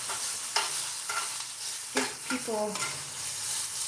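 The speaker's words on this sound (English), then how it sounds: "I'm gonna turn the heat down on the onions because I've had that thing on high in the cast iron" Onions sizzling over high heat in a cast iron pan, a steady close hiss broken by occasional spatula scrapes and a brief voice-like murmur, otherwise no talk.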